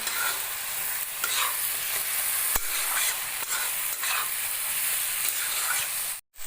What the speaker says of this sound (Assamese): আৰু এতিয়া মই এইখিনি কোমল হোৱালৈ ভাজি থাকিম